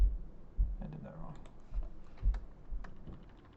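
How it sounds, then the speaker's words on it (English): Light clicks of typing on a computer keyboard come in short irregular bursts, quiet and close, with a faint voice murmuring underneath. "I was typing and talking."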